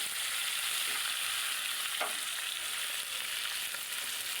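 Koi fish fry lightly in oil, giving a soft, even sizzle with a few stirring scrapes and one clearer clink midway, fairly quiet and with no talking.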